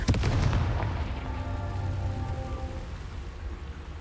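A Confringo blasting spell explodes in the video game Hogwarts Legacy, opening with a sharp, loud burst and crackle that fades into a rumbling, ringing tail.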